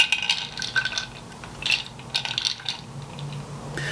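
A metal lid is fitted onto a Guerlain Météorites Perles compact tin, giving a few small close clicks and scrapes of metal against metal, with short pauses between them.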